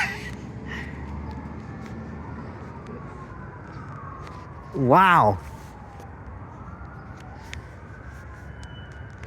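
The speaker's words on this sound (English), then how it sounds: "I just made the sirens go off." Garbage truck siren in Escondido, a single short rising-and-falling wail lasting about half a second, loud against street traffic noise, with a voice exclaiming nearby.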